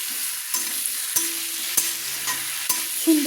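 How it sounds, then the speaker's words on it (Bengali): Eggplant pieces fry in hot oil in a pan while being stirred, giving a constant close sizzle broken by sharp scrapes and clicks of the utensil against the pan, with no talking. "বেগুনগুলো দিয়ে আমি একটু নেড়ে নিলাম"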